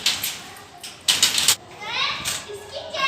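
Children playing outdoors below a home in an evening setting, their shouts and chatter rising in bursts, moderately distant, with a loud cluster of voices near the middle.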